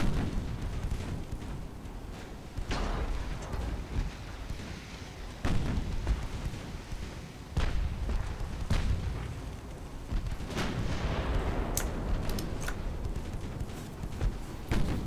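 Secondary guns blasting during a battle in an 1890s naval strategy game: repeated booming shots every second or two over a constant rumbling din, with no one talking.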